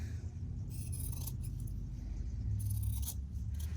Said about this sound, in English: Now I trimmed my seam allowance on here.